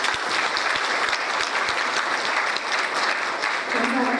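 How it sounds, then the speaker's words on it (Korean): Sustained, dense applause fills a lecture hall at a peaceful unification advisory council event in Atlanta, steady clapping from a large audience with a low voice surfacing briefly near the end. "우리 총영사님께 뜨거운 박수 한번 보내드리겠습니다"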